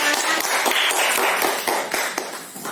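A classroom of students claps for a group leader after a parallel-circuit experiment report, a dense run of uneven, fairly close hand claps that stays steady and then thins slightly toward the end.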